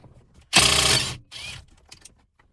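A ratchet fitted with a 19 mm socket works loose the center nut of a Nissan steering wheel, giving a close, loud burst of mechanical ratcheting followed by a second, shorter run.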